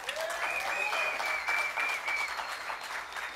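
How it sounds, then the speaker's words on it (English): Steady applause from a political party rally audience, with a faint whistle-like tone running through it, moderately distant and continuous. "Give him a round of applause."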